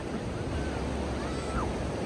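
Sea waves washing onto a beach as a continuous close rumble with wind buffeting the microphone and faint voices in the background.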